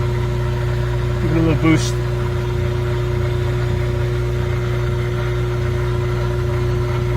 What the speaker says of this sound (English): Motor spinning.